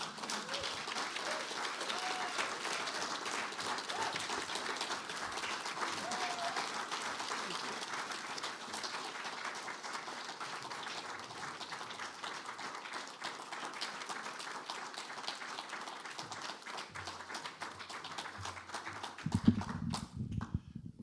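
Sustained applause from an audience at a faculty poetry presentation, steady clapping throughout, fading at the end into a brief low sound.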